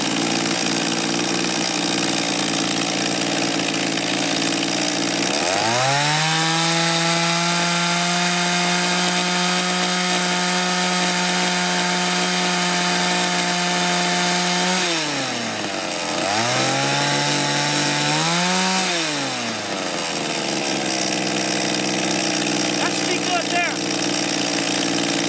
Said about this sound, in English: Now that's running full throttle smooth.